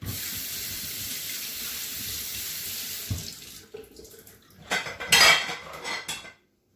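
Water runs from a kitchen tap into a sink while vegetables are washed by hand, a steady stream for several seconds, then clattering of dishes and splashing up close before it abruptly stops.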